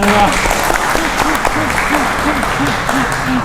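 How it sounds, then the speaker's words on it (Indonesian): Audience applause at a mayor's talk event in Magelang, continuous clapping throughout with voices and a melodic tone running underneath. "Ya, tepuk tangan dulu nih."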